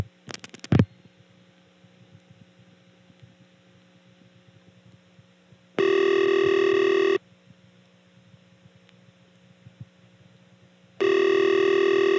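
A ringing tone on a 1970s step-by-step telephone exchange line in Birdsboro, Pennsylvania: after a click, two long steady buzzing rings about five seconds apart over a quiet hum.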